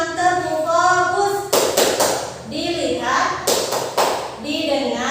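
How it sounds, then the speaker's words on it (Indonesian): A classroom of children in Gorontalo, Indonesia, led by a female teacher, performs a rhythmic clapping chant: two bursts of sharp, loud group claps in quick patterns, interleaved with the teacher's and children's sing-song chanting voices. "Bu Guru punya tepuk fokus"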